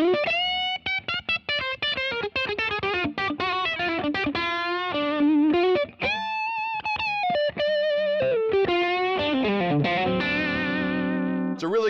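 A Fender Custom Shop 1959 Telecaster Relic electric guitar played through distortion, chorus and effects, with quick picked runs and sustained bent notes ringing loud and alone, switching between neck and bridge pickup tones.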